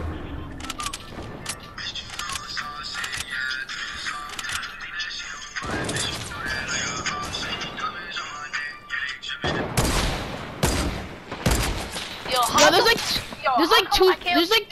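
Rapid gunfire in a shooter video game, a sniper shootout match, crackles almost continuously with bursts of automatic fire and sharp impact crashes, loud and close, while players talk over it.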